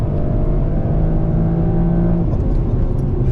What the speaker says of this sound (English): I love that straight 6 sound as well